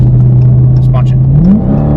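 A car engine in sport mode drones steadily at about 55 mph, then its pitch climbs as it accelerates hard, loud and close, with a brief voice over the top.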